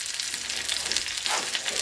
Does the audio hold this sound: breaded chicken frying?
yes